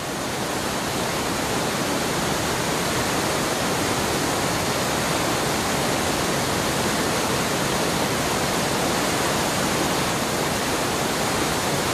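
Mountain water in the Orkhon Valley of Mongolia bubbles, falls and swirls in a dense, steady, broadband rush that fills the whole stretch without a break, loud and close.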